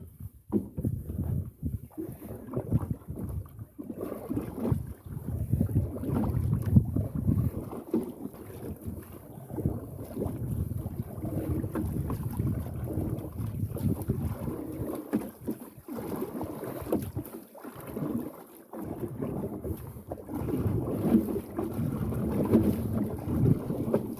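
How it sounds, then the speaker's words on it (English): Water sloshes and splashes steadily around a small boat as paddles dip in a lagoon on Scotland's Outer Hebrides, with wind buffeting the microphone throughout; no talking. "Right, let's go paddling."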